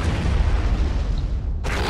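Artillery shell explosion in Men of War Assault Squad 2, a deep sustained boom with rumbling low end that fills the clip, then cuts off abruptly before a fresh burst of noise.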